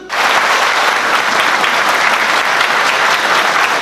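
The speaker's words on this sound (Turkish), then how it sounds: "Bahçeli'nin mesajı partililer tarafından ayakta alkışlandı" Party members at a provincial party congress give a standing ovation, with steady, dense applause from a large crowd filling the whole stretch at even loudness.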